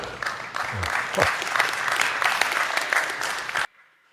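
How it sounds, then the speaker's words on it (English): An audience claps heartily after a story about milkshakes, a loud, sustained patter of many hands with a few voices mixed in, cutting off abruptly near the end. "people are clapping for a story about milkshakes"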